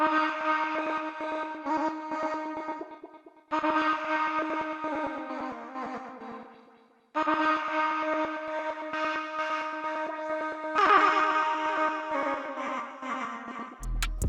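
Pitch-corrected, formant-shifted vocal chops with a robotic, stepped tone in a hyperpop style, played in repeating phrases separated by brief gaps, with reverb tails trailing off.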